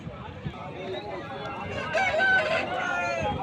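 A rooster at the Nallapadu chicken market crows once over busy crowd chatter and background clucking, the call rising clearly midway through the noisy scene.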